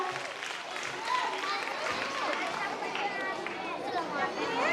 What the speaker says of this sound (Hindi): आप लोग जोरदार तालियों से सभी विद्यार्थियों को हौसला बढ़ाइएगा।